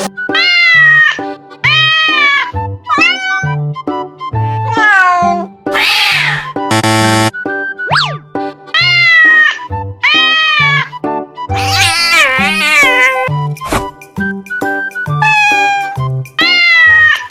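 A kitten at a zoo meows over and over in clear, close, high-pitched calls, a regular string of short cries with a few longer strained ones and brief pauses between.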